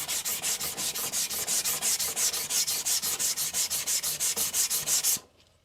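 Rhythmic scratchy strokes of an Aogami 2 bunka knife being thinned on a coarse 200-220 grit sharpening stone, about two dozen quick back-and-forth rasps, close and steady before stopping abruptly, no speech.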